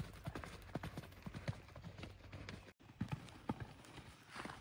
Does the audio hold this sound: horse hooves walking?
yes